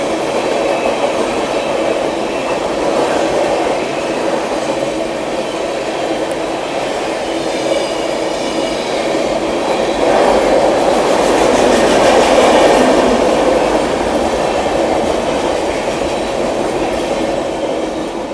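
Amrit Bharat Express train, Delhi to Gaya, running on rails: a loud, steady rolling roar with rhythmic wheel clatter and a rising, brighter passage midway, heard from on board with no voices.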